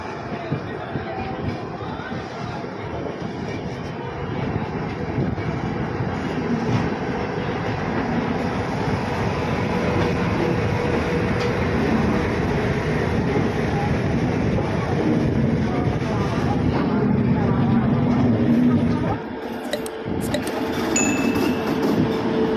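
Kulik Express leaving Howrah station on its run toward Rampurhat, a loud, steady rumble of the moving train with a faint rhythmic clatter of wheels that drops away briefly near the end.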